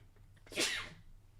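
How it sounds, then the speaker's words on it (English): A single sharp sneeze bursts out close by, quick and loud, then trails off into quiet room tone. "I'm going to sneeze"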